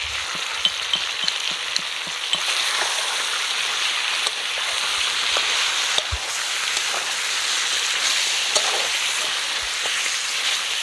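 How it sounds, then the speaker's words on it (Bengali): Chicken sizzles steadily in a hot pan as whisked sour yogurt goes in, a continuous bright frying hiss with a few soft clicks and stirring scrapes, close and alone. "এবার আমি ফেটিয়ে রাখা টক দইটা দিয়ে দেবো।"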